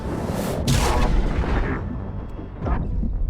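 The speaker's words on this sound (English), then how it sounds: "Oh shit, it explodes!" A loud, booming explosion in the video game Mass Effect 2, with a sharp blast, a heavy rumbling tail that fades over a couple of seconds, and then a second, smaller burst.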